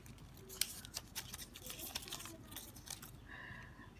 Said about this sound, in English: Firstly we have to unwrap it.